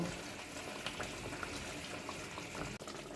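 Fish curry with slit green chillies bubbling in a pan as a steady, close simmer, continuous watery boiling without any voices.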